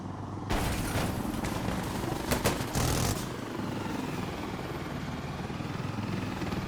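A helicopter firing on an enemy in a military game, with a loud burst of heavy rumbling gunfire and a few sharp cracks early on, settling into a steady low mechanical drone afterward.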